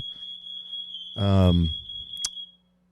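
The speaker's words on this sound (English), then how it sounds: "not make the smoke alarms go off" Indoor smoke alarms near a lit candle sound a continuous shrill tone throughout, while a loud voice talks briefly over it and a short sharp click follows before it cuts off.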